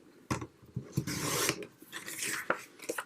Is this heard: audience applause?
no